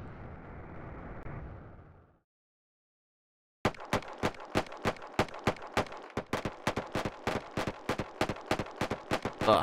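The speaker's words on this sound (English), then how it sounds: "Let's go and shoot one of these rocks. Test out our guns on an unsuspecting asteroid." Spaceship guns fire at an asteroid in the space game Wayward Terran Frontier. A rushing noise fades into a short silence, then a long run of evenly spaced, punchy shots rattles off in steady rhythm, loud and close.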